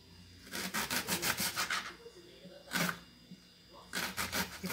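Rapid rhythmic chopping of onions on a wooden cutting board comes in three close bursts of quick knife strokes, separated by short pauses, with faint talk in the background.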